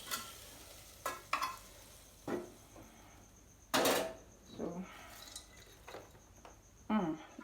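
A spoon scoops homemade popcorn out of a pot in scattered strokes, with scraping, rustling and light clattering of kernels against the metal, close and moderately quiet.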